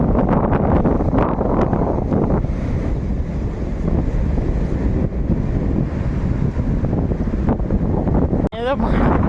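Wind buffets the microphone at the seashore with a steady broadband roar and wash of waves throughout, loud and constant, with a brief sharp rustle near the end.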